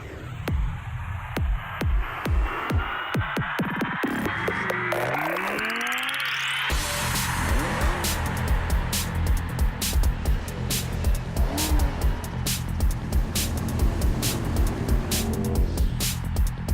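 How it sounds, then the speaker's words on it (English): A car drives past with a steady engine roar and road noise, with sharp clicks and crackles running through it, loud and continuous throughout. "Have a look at this car."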